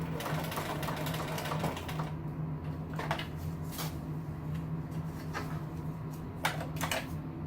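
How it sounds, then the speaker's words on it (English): A domestic sewing machine stitching in reverse while a costume is being reworked, a steady mechanical whir with faint ticking clicks, close and continuous throughout. "I'm going to put my machine in reverse."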